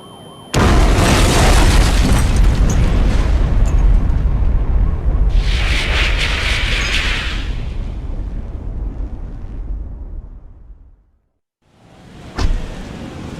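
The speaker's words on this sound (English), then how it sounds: "I'm scared the explosion will hurt." A long, loud rumbling explosion from the vehicular combat video game Twisted Metal 2 rolls on for about ten seconds and fades out, followed by silence and then a sharp thud.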